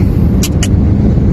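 Road traffic at the Cubao underpass, a steady loud rumble of cars and engines close by, with two brief higher hisses partway through.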